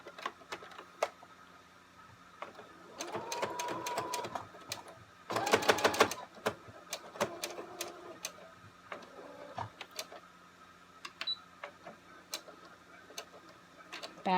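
A sewing machine stitches a reusable fabric face mask, with quiet ticking and a few short whirring bursts of stitching, including one louder run near the middle.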